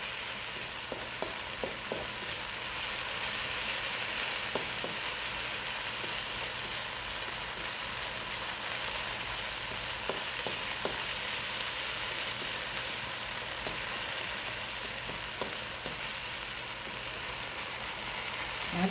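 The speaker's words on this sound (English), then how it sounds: "we're just tossing this around in our wok and letting it stir fry just a little bit" Lobster fried rice sizzles and crackles in a wok as it is tossed and stir-fried, a steady hiss with occasional scrapes and light clinks throughout, close and alone without talk.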